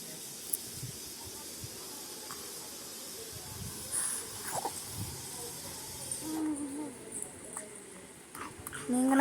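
Chicken chilli fries and sizzles in a pan on a home stove, a steady soft hiss running throughout with faint clatter and a louder burst near the end.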